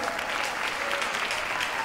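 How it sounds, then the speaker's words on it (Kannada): Audience at a solo dance reality show claps in dense, sustained applause, a steady wash of many hands with no voices over it. "ಒಂದು ದೊಡ್ಡ ಚಪ್ಪಾಳೆ ಬರಲಿ."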